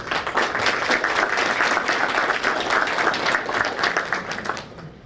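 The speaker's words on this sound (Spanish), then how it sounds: "Lo recibimos con cálidos aplausos." Warm applause from the audience at a Judges' Day tribute ceremony for a former magistrate of the Superior Court of Justice of Puente Piedra Ventanilla: sustained, dense clapping from a crowd, steady throughout and tapering slightly at the end.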